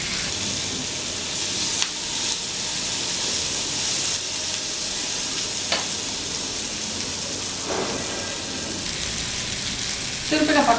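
Fish fries in oil with curry leaves and sesame seeds, Pondicherry resort style, giving a steady close sizzle and hiss throughout, with a few brief stirring clicks and a louder crackle near the end.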